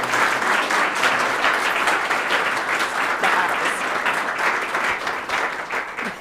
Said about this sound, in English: Can you give Leslie a round of applause?